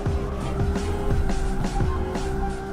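A car in a drift video game slides with squealing tires over a sustained engine drone, the squeals rising in repeated sweeps at a fairly steady rhythm, loud and continuous.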